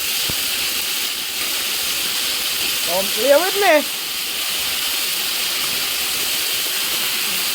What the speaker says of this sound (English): You see my chicken? You see they already frying?